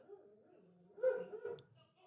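A dog barks a few times in a short burst partway through, close by, with voices and background noise around it.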